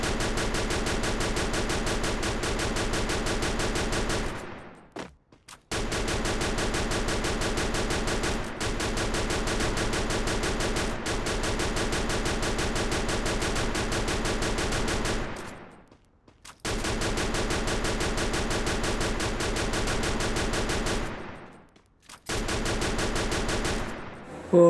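Rapid automatic gunfire in the Free Fire mobile battle-royale game, heard as long, dense, continuous bursts with a few brief pauses between them, loud and with no talking.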